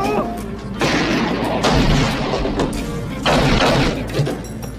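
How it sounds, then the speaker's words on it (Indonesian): Heavy gunfire rings out during a fierce film shootout, with dense bursts of shots and booming impacts coming in waves, loud and close throughout. "Nico melakukan perlawanan hingga baku tembak sengit tak dapat lagi dihindari"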